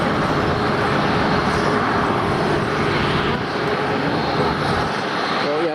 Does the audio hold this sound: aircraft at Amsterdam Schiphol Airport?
yes